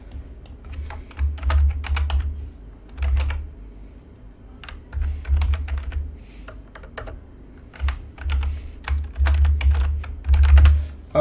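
Steady close-up typing on a computer keyboard while a fragment name is entered in Android Studio, with rapid key clicks in repeated bursts over a low background hum.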